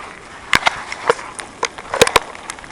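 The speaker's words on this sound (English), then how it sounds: "Walking in the snow." Footsteps crunch through snow outdoors during a snowstorm, an uneven series of sharp close crunches over a faint windy background.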